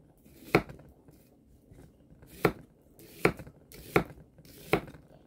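A knife slices green bananas on a cutting board. Five crisp, close chops land at uneven intervals, each a sharp knock on the board, with no talking.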